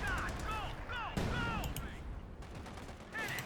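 Company of Heroes 2 battle in the Ardennes with a Sherman tank firing, heard as repeated gunfire bursts and booming blasts layered over a dense, continuous game soundscape.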